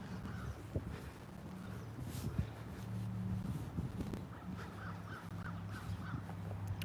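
Several birds caw and call intermittently at a distance over steady low outdoor rumble.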